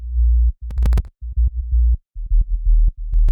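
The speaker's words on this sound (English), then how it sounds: "Then we have the sub, sounds like this." A simple sine-wave sub bass from a slap house track plays as a string of deep, short pulsing notes with brief silent gaps between them. Small clicks mark some note starts, and the sound is close and clean.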